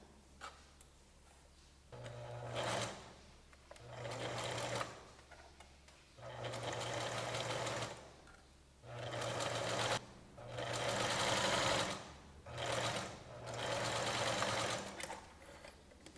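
A domestic sewing machine runs in repeated bursts of several seconds each, stitching a straight seam along a zigzag stitch while finishing a simple cushion, with short pauses between runs and no talking.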